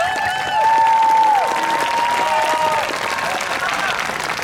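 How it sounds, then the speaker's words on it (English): An audience at a school band spring concert claps steadily for the 6th grade band, a loud sustained wash of applause with a voice speaking over it. "let's clap for them"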